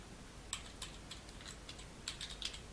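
Code is typed on a computer keyboard: quiet, irregular bursts of light key clicks close by, with no talking.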